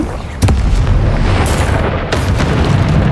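A Confringo spell blasts in the Hogwarts Legacy video game, a loud booming explosion that hits sharply and then rolls on as a dense, sustained roar.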